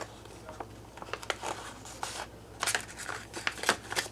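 Crinkly plastic rustling with a series of quick, sharp clicks as the seals of storage bags holding freeze-dried beans and water are pressed closed, close by and fairly quiet.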